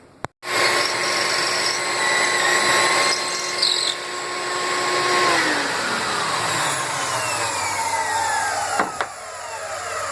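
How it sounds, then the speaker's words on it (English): A power drill whines at high speed as it bores pocket holes into a wooden board, holding a steady pitch for several seconds before spinning down, followed by a short clunk. "here we are drilling some pocket holes in our board here"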